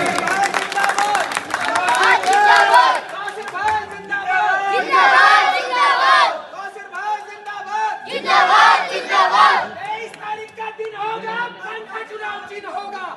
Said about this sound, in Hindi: नारेबाजी लो उसकी बात पे, ठोको ताली